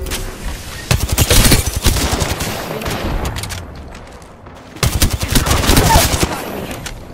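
Rapid automatic gunfire in the Apex Legends video game, loud, close bursts of shots crackling in quick succession, with a brief lull before a second sustained volley.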